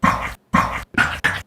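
A dog's short, bright barks are recorded as a sample for building a drum beat. Four quick bursts come close and loud in an uneven rhythm, separated by brief silences, with no talking.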